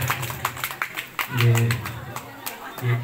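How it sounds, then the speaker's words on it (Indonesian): An audience claps in quick, uneven bursts at a live Balinese comedy show. The clapping is mixed with a voice and sits at moderate loudness. "Tepuk tangan biar semangat."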